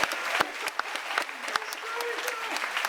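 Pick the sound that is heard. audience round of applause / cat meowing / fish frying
audience round of applause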